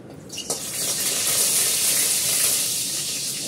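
Spices frying in a little oil in a pan, with dried red chillies and a bay leaf for Bengali shukto dal, making a steady loud sizzle that swells after a brief sharp pop and holds throughout.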